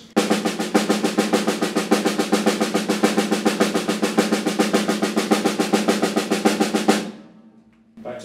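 A drummer plays a four-stroke warm-up exercise, a fast, even stream of strokes with a pulsing accent pattern, loud and close for about seven seconds before stopping and ringing out.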